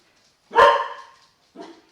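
A dog barks twice indoors, one loud, sharp bark followed a second later by a shorter, softer one, with quiet between them.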